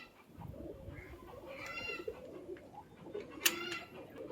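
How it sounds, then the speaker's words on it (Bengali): A pair of carrier pigeons coo inside a loft, soft low burbling calls repeating close by over a faint background with a few sharper bird chirps. "এই যে এক জোড়া পায়রা, মালবাহী পায়রা, একদম গ্যারান্টি মালবাহী পায়রা।"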